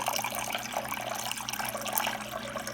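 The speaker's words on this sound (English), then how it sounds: "So we're going to do a water change" Water pouring and splashing steadily during a water change in a triops tank, a close continuous gush lasting the whole stretch.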